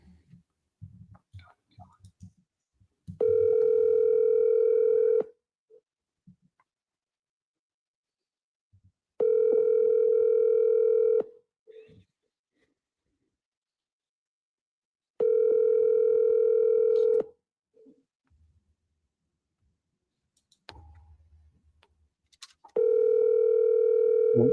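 A telephone dial tone sounds while a call is being placed, four long steady tone bursts separated by quiet gaps with faint clicks and short bits of talk in between.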